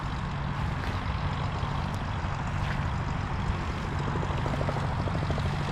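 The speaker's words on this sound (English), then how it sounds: "Biplanes are still over the runway" Biplanes fly over a grass runway at Creve Coeur Airport, their propeller engines a faint, steady drone heard from a distance with a low rumble beneath.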